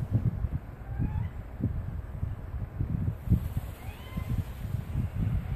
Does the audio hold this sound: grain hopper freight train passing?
no